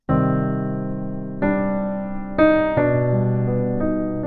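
A sparse jazz piano phrase: a handful of rich chords and melody notes struck one after another, each left to ring, with no talking.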